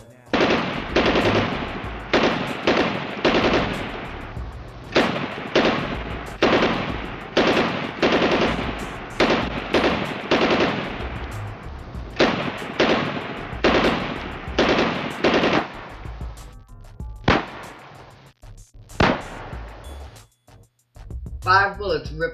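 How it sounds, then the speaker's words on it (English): Sustained bursts of gunfire and machine gun shots in a police shootout with a trooper, loud and near, firing in rapid repeated volleys for most of the span with a few short pauses before tapering near the end. "Willie was told to come out, at which time gunshots rang out."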